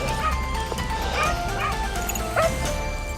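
A hunting dog on a big-game hunt barks in sharp, repeated yaps mixed with high whimpering yips, loud and nearby outdoors, with no voices over it.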